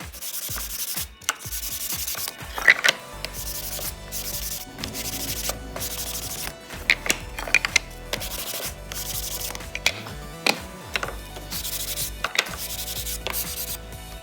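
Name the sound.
sanding with sandpaper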